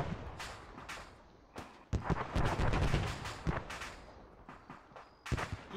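In a video game battle around a BMP armored vehicle, sharp gunshots and blasts crack in irregular bursts, some loud and close, others lighter, with dense clusters of fire in the middle and near the end.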